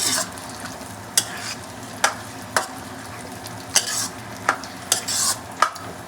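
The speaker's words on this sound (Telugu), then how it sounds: "చికెన్ వేసినాక మొత్తం కలిపేయాలి" Washed chicken pieces being stirred in a hot kadai, a continuous sizzle punctuated by about nine distinct metallic scrapes and knocks of the spatula against the pan, loud and close with no one speaking.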